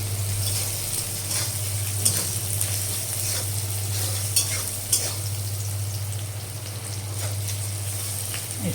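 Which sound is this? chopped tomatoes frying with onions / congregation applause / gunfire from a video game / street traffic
chopped tomatoes frying with onions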